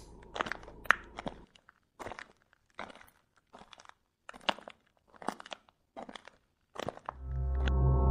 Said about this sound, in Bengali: হঠাৎ হরিশের কানে আসলো মানুষের হাড় চিবানো আওয়াজ